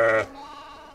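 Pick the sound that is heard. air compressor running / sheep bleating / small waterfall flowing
sheep bleating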